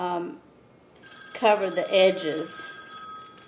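An electronic telephone ring sounds once, loud and close, in a quiet indoor room, and someone speaks briefly just before it.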